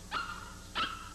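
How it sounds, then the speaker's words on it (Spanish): A dog barks twice in a classic 1976 Mexican film scene, two separate, fairly clear barks with a short whine-like tail, moderately near and alone. "Otra vez tienes hambre, perro tragón."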